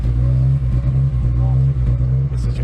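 Martin Reynolds' race car engine rumbles close to the microphone at Snetterton with a deep, steady, throbbing note and slight dips between pulses.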